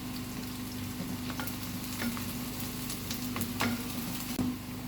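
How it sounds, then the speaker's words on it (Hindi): Onions and green chilies fry steadily in a pan, a continuous close sizzle with occasional stirring scrapes and small pops, and no voices. "यहाँ पे कि प्याज ज़रा अच्छे से फ्राई हो जाए, इसमें शामिल करूँगी ये जो हरी मिर्च एक काटी थी ना"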